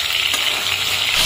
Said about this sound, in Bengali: চলো মাছগুলো ভেজে দিই